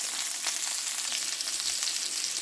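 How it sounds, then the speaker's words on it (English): Garlic butter lemon salmon frying in a pan, a loud, steady hiss of sizzling fat with crackling pops throughout, close and uninterrupted, no voices. "I have been cooking the salmon for about 5 minutes"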